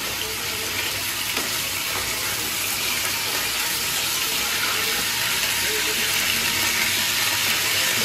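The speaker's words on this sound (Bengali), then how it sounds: "চিকেনগুলো সব দিয়ে দিয়েছি, একটু হালকা ভেজে নেব এপিট ওপিট করে আর কি" Chicken pieces shallow-frying in white oil for a curry, giving a steady, dense sizzling hiss that runs unbroken at even loudness from start to finish, close to the pan.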